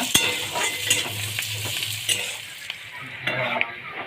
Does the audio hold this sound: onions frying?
yes